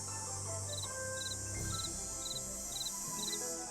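Small creature chirping in Nancy Drew: Ghost Dogs of Moon Lake, a run of about seven short, evenly spaced high chirps, faint and fairly distant, over a steady outdoor ambient bed with soft game music.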